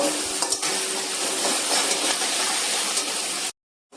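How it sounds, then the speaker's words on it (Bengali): Onions frying in a pan for a mutton curry, a loud close crackling sizzle with a few clinks of utensils early on, cut off abruptly to silence near the end. "এদিকে দেখো, পেঁয়াজটা ভাজতে দিয়ে দিয়েছি।"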